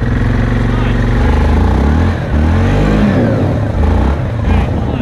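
A Yamaha Grizzly four-wheel ATV stuck in mud revs hard and loud and up close, the engine rising and falling in repeated bursts with short dips between, while people talk over it.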